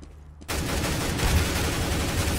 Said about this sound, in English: He's shooting me through the wall